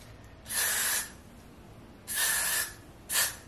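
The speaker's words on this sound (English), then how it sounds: "spray it with the Got To Be spray right on the area where it looks white" Got To Be hair spray misted onto a wig in three close bursts, two long hissing sprays followed by a shorter one, with quiet pauses between.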